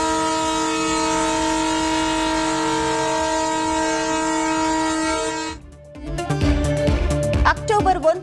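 A train on the new Pamban bridge at Rameswaram during its trial run sounds a long, loud, steady horn blast, then cuts off into the close rattling clatter of wheels and cars rolling past.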